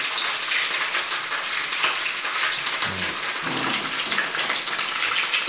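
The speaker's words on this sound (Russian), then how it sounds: "Ну, я только ее начал жарить," Sliced potatoes frying in a full pan give off a dense, steady sizzle and crackle, close and loud throughout, with no voice over it.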